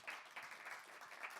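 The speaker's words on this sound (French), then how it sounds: "On les applaudit, s'il vous plaît." A studio audience on a French game show applauds, a brief, steady patter of clapping heard faint and somewhat distant.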